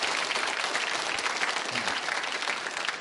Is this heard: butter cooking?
no